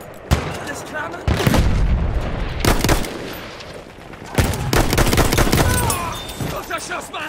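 Bursts of rapid gunfire and booming shots in the video game Battlefield 1, close and loud, with short pauses between volleys and voices mixed in.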